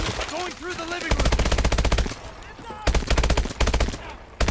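Rapid automatic gunfire in Call of Duty: Advanced Warfare rattles loud and close in several sustained bursts separated by brief pauses, with faint voices in the mix.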